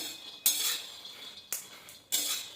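Peanuts being stirred while dry-roasting in a pan, heard as three separate bright metallic scraping strokes of a spoon against the pan, close and fairly quiet, with short pauses between strokes and no voices.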